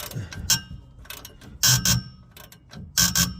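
A wrench ratchets while tightening an exhaust bolt on a 1998 Toyota Celica GT ST202, loud close clicking bursts repeating in three or four short strokes with pauses between.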